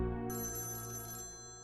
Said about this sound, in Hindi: मेरे ख्याल में आपका फोन बज रहा है